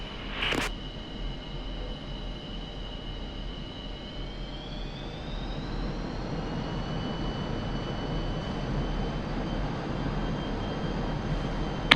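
A MiG-29A Fulcrum jet rolls slowly at idle thrust in the DCS World flight simulator. Its engines give a steady, droning whine, with a high turbine tone that bends upward partway through, and a brief click sounds near the start.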